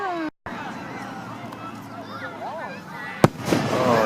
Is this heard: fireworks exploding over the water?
yes